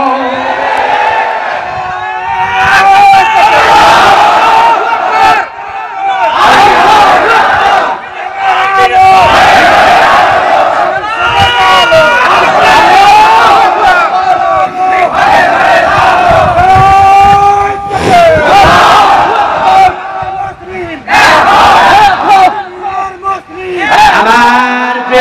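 A large crowd at a Bangla religious gathering chanting slogans in loud, rhythmic unison, with repeated call-and-response waves and short pauses between them.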